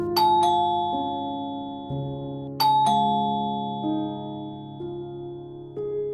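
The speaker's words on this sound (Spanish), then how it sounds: "Al llegar, picó al timbre en varias ocasiones." A doorbell used as an audiobook sound effect rings several times in a row, its bright two-tone chimes sounding clearly and close with lingering ringing tails and no voices.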